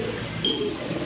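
A male pigeon coos once, briefly and softly, among birds kept for sale. A steady background hiss runs under the coo and no one speaks.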